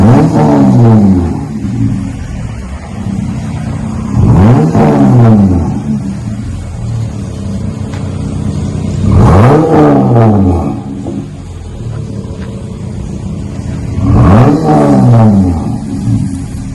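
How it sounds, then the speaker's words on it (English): A 2020 Jeep Gladiator engine revs hard four times through a deep exhaust with a 6-inch tip, each roar rising and falling, with a steady idle rumble between the bursts. "added a nice 6-inch exhaust tip on the back to give it a little bit more sound"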